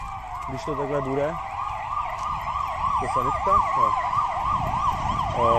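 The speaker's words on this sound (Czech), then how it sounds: "sanitka, jo" An ambulance siren wails in a fast repeating up-and-down pattern over road noise, while a person speaks briefly over it.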